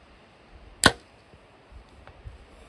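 A single arrow released on a 91-yard downhill shot at a 3D Dall sheep target on an outdoor archery course gives one sharp, loud snap, followed by quiet outdoor ambience with a faint distant thud.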